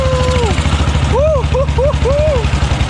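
A WWII-era BSA motorcycle engine powers a Siantar becak, idling with a steady, close, low, rapid thumping pulse, while a voice briefly speaks over it.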